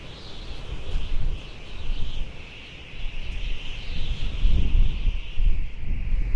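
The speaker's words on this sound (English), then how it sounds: "This wind is something else." Strong wind during a fishing outing, gusting as a steady roaring rush that swells and eases over several seconds with low buffeting against the microphone, with no talk heard.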